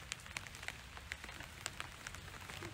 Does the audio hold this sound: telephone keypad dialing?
no